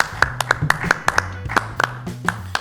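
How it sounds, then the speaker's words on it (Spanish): Rhythmic cueca-style clapping from a small group in a studio, sharp, close claps in a patterned beat with a low musical or vocal tone underneath. "Bravo, aplauso de cueca."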